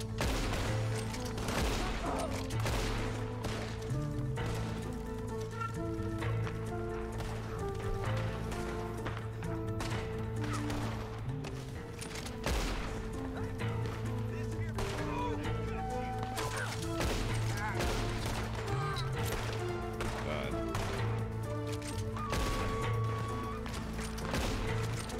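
Gunfire in Red Dead Online comes as repeated sharp shots and bursts mixed with galloping hooves and game music, continuous and fairly loud for the whole stretch, with some voices in between.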